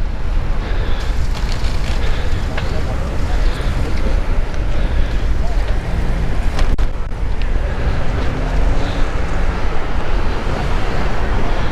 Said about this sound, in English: And this wind is no joke out here.